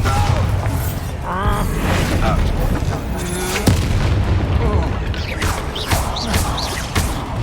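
A Bombarda spell explosion in the wizarding video game Hogwarts Legacy during a duel, heard as loud, heavy booms inside a dense, continuous wash of battle effects.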